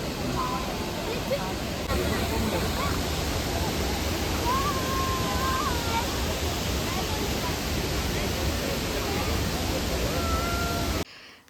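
Athirappilly waterfall in the monsoon season, running with less water than usual, gives a steady, dense roar that fills the whole scene, with faint voices drifting in now and then before it cuts off abruptly.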